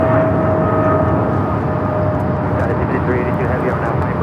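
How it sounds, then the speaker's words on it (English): A Boeing 777 freighter taking off at Los Angeles International Airport, a loud steady roar of jet engines with a faint tonal whine, heard from the airfield's edge with voices mixed in. "That is DHL operated by Polar Air Cargo 718 taking off to Cincinnati on the 777 freighter"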